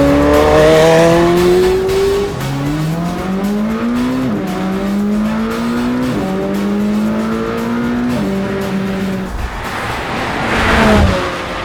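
A McLaren Sabre engine revs hard while driving, rising in pitch through repeated gear-change steps, each climb followed by a drop, loud and close over road noise.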